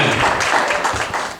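An audience at a book launch claps briefly and steadily, a close patter of hands lasting under two seconds before fading.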